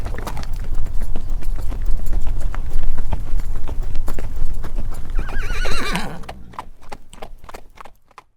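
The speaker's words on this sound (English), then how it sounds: "Now here is an energy of movement, of running, of the earth being pounded by hooves" Horses galloping, hooves pounding the earth in rapid, dense clip-clop rhythm, close and loud, with a horse whinnying near the end before the hoofbeats thin out.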